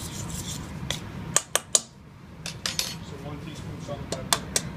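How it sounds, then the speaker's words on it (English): A utensil scrapes and clinks against a bowl while flour, baking soda, salt and pepper are mixed, sharp knocks scattered between rubbing strokes, close. "Mix your ingredients together"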